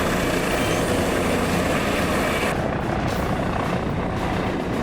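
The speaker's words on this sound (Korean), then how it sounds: "오른쪽에 있는 거는 LH, 미르온이라고 하는 지금 막 전력화되고 있는 공격 헬기입니다" Korean LAH Miron attack helicopter, a loud steady broadband rotor and turbine roar that stays constant throughout, its top end briefly dropping out partway, with no voices.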